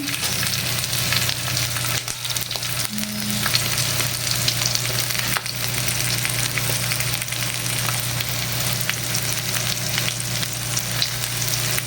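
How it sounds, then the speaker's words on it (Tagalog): Garlic frying in leftover cooking oil, a steady close sizzle that runs without a break for the whole stretch, with no voices over it. "Pwede na siguro yung natirang mantikang yan. Lagay na natin yung ating bawang."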